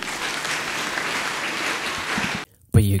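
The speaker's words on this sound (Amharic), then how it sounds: "እያጨበጨባችሁ ሸኙዋቸው" A church congregation applauds with loud, dense, steady clapping for about two and a half seconds, then cuts off abruptly, followed by a brief burst of a voice.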